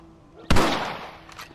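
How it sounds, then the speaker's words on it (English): A single sharp rifle shot in Red Dead Redemption cracks out close by and rolls away in a short echoing tail, with no voices over it. "Your back's tense and it's making the rifle jump."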